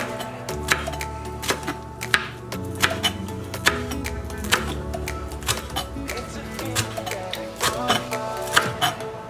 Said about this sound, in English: I'm going to go ahead and bunch it up and cut it like so.